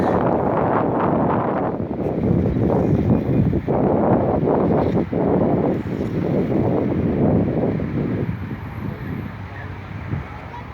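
Loud, steady roar of an amphibious firefighting aircraft taking off from the sea after scooping water, with broadband wind-like rumble throughout and a voice talking over it.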